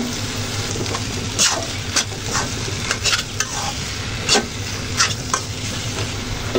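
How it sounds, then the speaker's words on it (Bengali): Fried vegetables being sautéed in a pan, with a dense steady sizzle punctuated by repeated stirring scrapes and clacks of the utensil against the pan, close and loud, no talking. "এরপর ভেজে রাখা সবজিগুলো অ্যাড করে দিলাম।"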